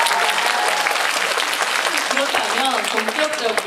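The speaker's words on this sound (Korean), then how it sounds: "박수 한번 부탁드릴게요." A crowd at a fan event for Girls' Generation's Yoona claps steadily and loudly for a few seconds, dense applause with a voice faintly heard underneath.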